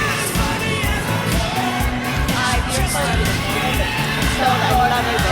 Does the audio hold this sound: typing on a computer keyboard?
no